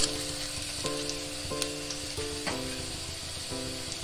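Onion fries in a pan with a steady, close sizzle throughout, and a soft stirring texture comes through along with light tonal notes in the background.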